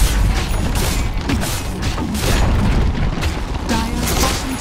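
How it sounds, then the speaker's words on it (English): A tower collapses in a Dota 2 match, with deep booms and crashing rumble rolling over busy battle sounds, loud and close for several seconds. "Dire's bottom tower has fallen."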